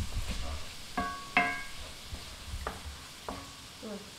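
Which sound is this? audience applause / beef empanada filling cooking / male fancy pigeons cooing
beef empanada filling cooking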